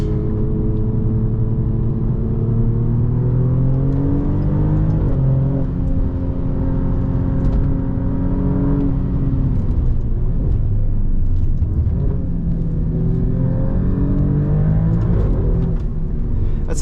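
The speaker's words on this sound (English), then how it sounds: "This is a quick car." A 2024 Alfa Romeo Giulia Quadrifoglio or Stelvio Quadrifoglio revs hard on a race track and climbs through the gears, pitch rising and dropping with each shift, loud and close with no talking.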